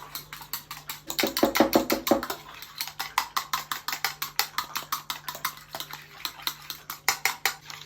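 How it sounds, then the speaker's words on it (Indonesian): Eggs are whisked fast in a bowl, a close, rapid, steady clinking rhythm of utensil against the bowl that runs the whole time and is loudest near the start. "Dilanjut kita kocok-kocok telurnya dengan cepat dan juga agak lama sampai telurnya itu agak encer dan juga berbusa"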